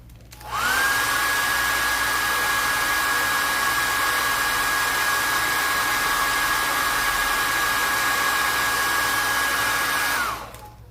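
A hair dryer dries makeup, switching on to a loud, steady whooshing blow with a constant whine that lasts about ten seconds before it cuts off.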